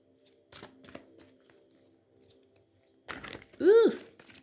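Oracle cards being shuffled give a few short papery riffles and flicks, close and fairly quiet, with a brief vocal sound near the end.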